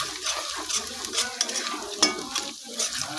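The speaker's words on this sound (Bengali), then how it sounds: "মশলাগুলো ভালো করে মিশিয়ে নিচ্ছি" A utensil stirs cumin, coriander and Kashmiri chilli in a pan, giving a soft continuous scrape and light sizzle with small clinks, close and moderately quiet, without talk.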